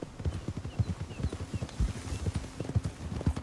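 Horse hooves clip-clop at a quick, steady trot across the ground in Red Dead Redemption 2, close and rhythmic, with faint background sound.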